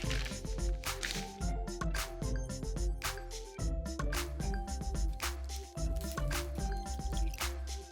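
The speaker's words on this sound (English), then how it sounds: "Step 1, pour all the ingredients into the small baggie. 1 cup of heavy whipping cream" Heavy whipping cream is poured into a small plastic baggie, with wet, squishy dripping and plopping sounds repeating in an uneven rhythm, close by and fairly loud.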